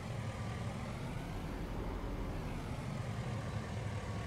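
A truck engine runs in a farming simulator game, a low, steady rumble that stays even and fairly quiet with no change in pitch or pace.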